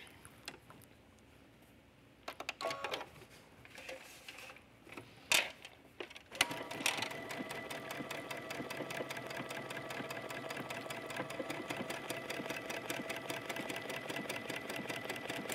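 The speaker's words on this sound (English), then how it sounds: "Now let's go ahead and stitch this other one." A sewing machine stitches drawstring pants with contrasting thread: a few short starts and stops at first, then a fast, even, continuous mechanical whir at close range with no talking.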